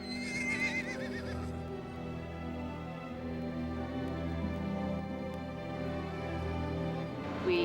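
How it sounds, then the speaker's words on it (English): A pony at the start of a horse-trekking stage of a Tibet-Nepal adventure race whinnies loudly at the outset, followed by steady low rumbling ambience with occasional hoof and movement sounds. "So then we grab our little pony, who is so amazing, so strong."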